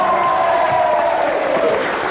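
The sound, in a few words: studio audience applause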